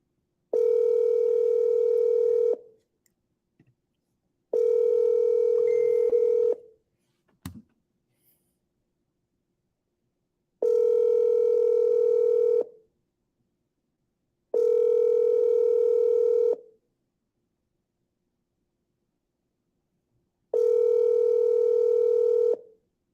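A telephone call rings out on the line: a steady ringback tone sounds in five evenly spaced bursts of about two seconds each, separated by silence, with a single faint click between the second and third bursts.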